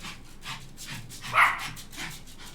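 Dogs barking in the distance in Vietnam, a few scattered barks and yips, one louder bark standing out midway over faint background noise, with no talk.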